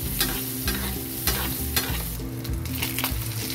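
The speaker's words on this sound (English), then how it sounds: "We're gonna add some garlic, some oil, and some butter, and then we're going to baste it." Fish basted in a hot pan with garlic, oil and butter gives a steady, close sizzle, broken about every half second by rhythmic spoon strokes scraping through the fat, with no talking.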